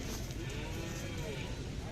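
Khillar cattle at a crowded livestock market during the Pandharpur Magh Wari fair, with a cow's low moo under constant crowd noise and nearby voices.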